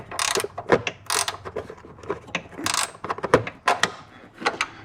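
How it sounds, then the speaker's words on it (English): A ratchet wrench tightens a bolt while fitting a catch can on a 2024 Mustang GT, a run of close, sharp clicking bursts in an uneven rhythm with short pauses between strokes. "Maybe just try it with the ratchet wrench now that's got some grip."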